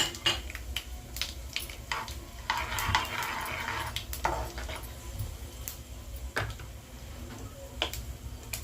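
Mustard seeds, cumin and chana dal splutter in hot oil for a wheat rava upma tempering, with quick scattered pops and ticks over a soft sizzle and occasional stirring scrapes, close by.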